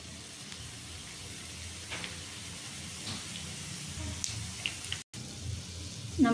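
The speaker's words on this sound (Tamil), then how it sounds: "ஒன்று ஒன்றா போட்டு பொரிச்சு எடுத்துக்கலாம்." Bread jamun balls fry in hot oil, a faint, steady crackling sizzle with small bubbling pops, close and quiet, with a brief dropout partway through.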